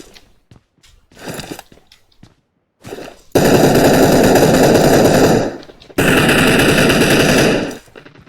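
PUBG Mobile gunfight with two long, loud bursts of rapid automatic gunfire following a few scattered single shots and quiet game sounds.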